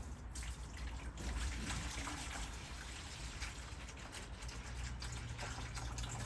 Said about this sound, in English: you want to add your hot water to the bucket